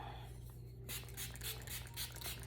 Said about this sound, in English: I'm gonna go ahead and spray it